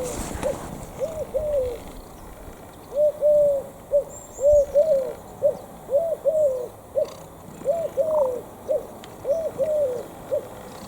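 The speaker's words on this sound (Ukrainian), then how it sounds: "Голуб на хаті сидить." Repeated soft, hooting coos from a pigeon perched on a house, a steady series of short rounded calls recurring every half second or so, fairly close, with no talking.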